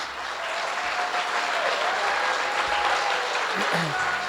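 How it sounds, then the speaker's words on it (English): Audience at a gala dinner applauds steadily, a dense, even wash of many hands clapping throughout, with some voices mixed in. "Big hand of applause to her, please."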